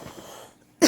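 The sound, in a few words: cough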